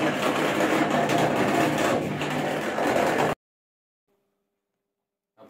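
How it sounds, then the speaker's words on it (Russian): An Atlant washing machine on its spin cycle, with a loose impeller on the drain pump, gives a loud, steady rattling mechanical roar for about three seconds before cutting off abruptly into silence. "Стук при отжиме."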